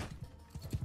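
Faint, rapid clip-clop of a horse's hooves in a video game, a quick run of soft thuds heard without any talk.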